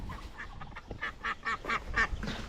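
Duck on a farm near its covered nest of eggs, giving a run of nasal quacks at a moderate distance, about eight calls in quick uneven succession.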